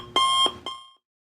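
An electronic alarm switched on by a MOSFET temperature-sensing circuit sounds two sharp, close, tonal beeps, a longer one followed by a short one, then silence.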